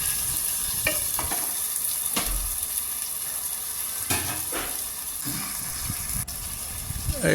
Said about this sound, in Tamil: அப்படியே கொஞ்ச நேரம் வதக்கலாங்க அதை நல்லா வதக்கலாம்